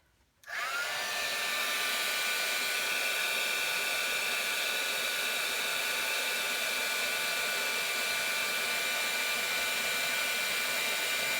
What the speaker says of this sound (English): heat this with my heat gun